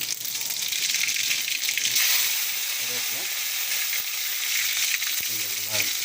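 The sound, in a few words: mustard seeds spluttering in hot oil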